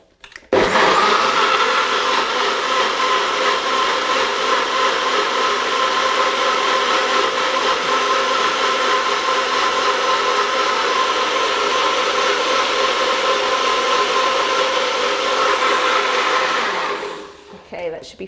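A blender whirs loudly and steadily for about sixteen seconds, blending a chai spice green smoothie with protein, then winds down and stops.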